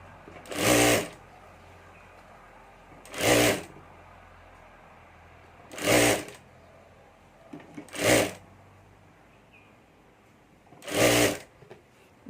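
A sewing machine stitches a handbag strap in five short, evenly spaced bursts, each a quick loud whir, with quiet pauses between them.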